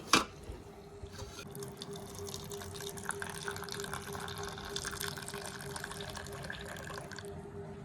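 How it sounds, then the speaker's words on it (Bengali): Tea is poured in a home: a thin, steady stream of liquid trickles continuously after a brief clink at the start, faint and close. "চাটা ঢেলে দাও দেখি"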